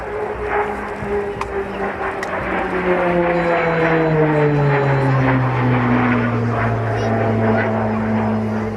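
A propeller trainer aircraft used before fast jet training flies over Halton Air Show in 2008. Its loud engine drone sweeps downward in pitch as it passes and recedes, with faint talk in the background.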